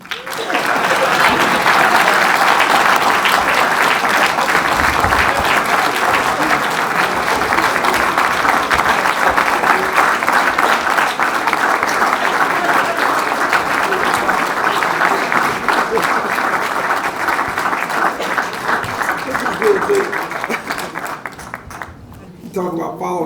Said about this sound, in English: I'd like you all to start clapping right now and put your hands together for our speaker, Mayor Stephen L. Reed.